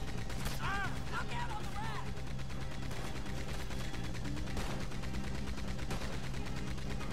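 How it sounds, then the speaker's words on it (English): Gunfire from the player's weapon in Red Dead Redemption 2, a series of fairly quiet shots and mechanical clicks spread through the clip over a constant low game background, with a voice talking at times. "I'm shooting him"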